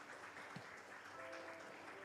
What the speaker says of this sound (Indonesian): Beri tepuk tangan yang meriah buat Tuhan Yesus.